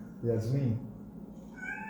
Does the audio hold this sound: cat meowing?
yes